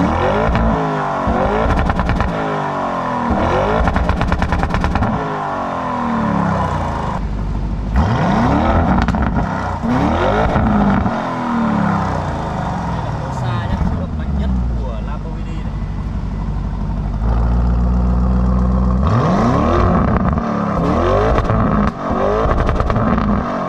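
A 2022 Lamborghini Urus exhaust revs repeatedly through different drive modes, with loud rising and falling engine sweeps and a deep idle rumble heard close up, while someone talks over much of it.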